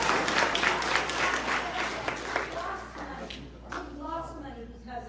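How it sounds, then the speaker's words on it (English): A crowd at a political get-out-the-vote rally applauds and cheers loudly at first, the clapping thinning and fading over several seconds as a voice comes through near the end. "You've been waiting to cheer, and I'm going to give you a chance."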